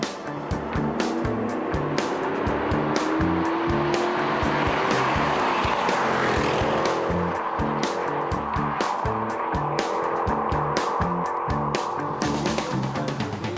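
Classic rally cars racing flat out on a tarmac special stage near Adelaide, Australia, engines roaring loud and steady with rising and falling revs throughout.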